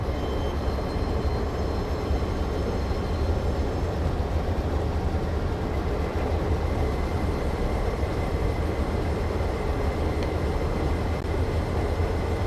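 Train gathering speed on straight track with the throttle held steady at a quarter, a continuous loud rumble of wheels and engine that stays even throughout with no speech.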